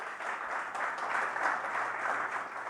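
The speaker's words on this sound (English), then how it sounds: "Let's give them a round of applause, please." A steady, dense wash of audience applause at the Chicken N Pickle venue during a live show, many hands clapping together evenly and unbroken from start to finish at moderate volume.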